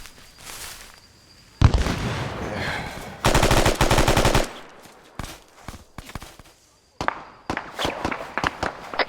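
Rapid bursts of automatic gunfire crackle in a rocky outdoor firefight, with loud sustained volleys broken by single sharp shots and quieter gaps, under brief distant shouting.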